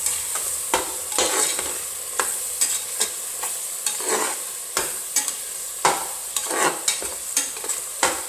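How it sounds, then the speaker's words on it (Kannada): Biryani powder, chilli powder and coriander powder frying over medium flame for mushroom pulao, with a low sizzle and rhythmic, repeated spoon scrapes against the pan, close with no voices. "ಬಿರಿಯಾನಿ ಪುಡಿ, ಅಚ್ಚ ಖಾರದ ಪುಡಿ ಮತ್ತು ಧನಿಯಾ ಪುಡಿನ ಹಾಕ್ಕೊಂಡು ಚೆನ್ನಾಗಿ ಫ್ರೈ ಮಾಡ್ಕೊಳ್ಳೋಣ"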